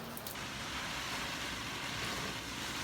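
Heavy rain from an insane storm pours down in the rainy season at Bahia Del Sol, El Salvador, a steady dense wash of hiss and low rumble with no letup and no voices.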